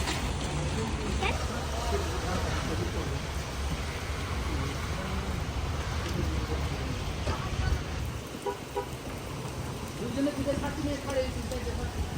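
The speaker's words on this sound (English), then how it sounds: "As we finished up and prepared to leave, the rain intensified." Heavy rain pouring steadily as it intensifies, a dense, loud and continuous wash of noise that fills the whole stretch, with no break and no voices heard.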